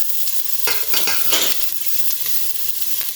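Oil sautéing in a pan at the start of cooking callaloo, a loud continuous hiss and sizzle with a few brief swells of spattering, close and unbroken.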